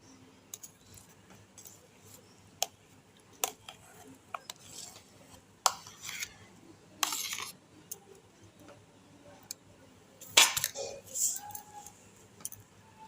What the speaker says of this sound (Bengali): উপকরণগুলো ভালো করে মিশিয়ে নিচ্ছি